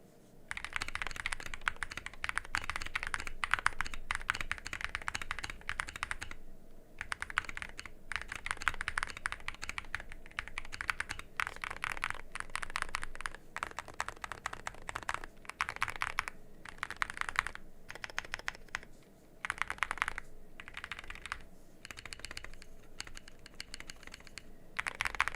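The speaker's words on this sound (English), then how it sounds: "the combination of the switches, mounting system, and internal dampening gives the keyboard a really controlled sound" Nova switches clatter under steady typing on a Ghost in the Shell EV63 mechanical keyboard with internal dampening, giving dense, controlled, muted clacks in quick bursts with brief pauses, close up and moderately quiet.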